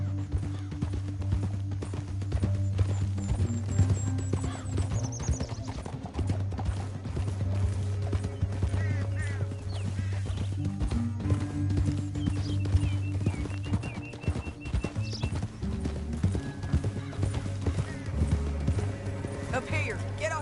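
Horse hooves clopping steadily in the Western video game Red Dead Redemption 2, a continuous rhythmic beat under a constant low music bed, with no clear voices.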